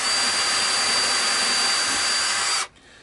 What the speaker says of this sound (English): and we give it the pilot holes